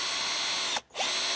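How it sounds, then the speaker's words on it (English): A cordless drill driving screws into the wooden base of a birdfeeder: a steady high whirring motor that stops briefly and then starts again, close and alone. "With my cordless drill, and now I'm going to secure the base to the sides."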